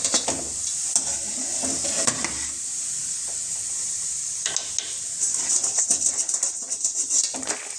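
Butter pakoda of wheat flour dough crackles and sizzles in hot oil, a steady bright hiss close up, with occasional scraping and clinking of a stirring utensil against the pan.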